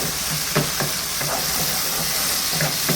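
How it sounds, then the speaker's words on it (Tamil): Eggplant pieces fry in oil in a pan, a continuous dense sizzle with occasional clicks of stirring, steady and close throughout. "கத்திரிக்காய் வந்து எண்ணெயிலே கொஞ்சம் வதக்கிடுங்க"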